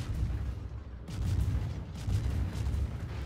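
Naval guns fire in the World of Warships game, a destroyer trading shots with a heavy-hitting ship, with dull rumbling booms rolling together under a steady low roar of battle noise.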